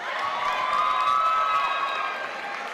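A graduation ceremony audience at Eastmoor Academy applauds and cheers for the graduates, a steady, dense wash of clapping and raised voices that holds for the whole stretch without letting up.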